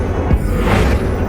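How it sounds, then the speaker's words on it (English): A Confringo fire spell blast in Hogwarts Legacy, a loud, dense burst with a brief whooshing swell that fills the short moment. "Confringo."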